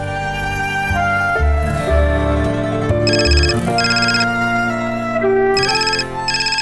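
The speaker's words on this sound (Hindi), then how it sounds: "नैना देखो किसका फोन है।" A phone ringtone plays a bright repeating electronic melody, loud and close, with steady chiming notes and no talk over it.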